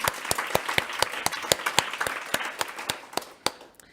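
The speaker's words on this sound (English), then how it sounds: "Round of applause." Audience at a business conference applauding, a steady round of sharp individual claps from a modest crowd that thins out and fades toward the end.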